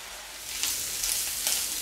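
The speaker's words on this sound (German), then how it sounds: "Und jetzt fängt schon zu braten" Mushrooms and liver sizzle steadily in a frying pan, a continuous hiss of moisture cooking off with slightly louder bursts, close and alone without talk.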